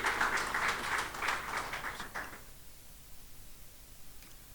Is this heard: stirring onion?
no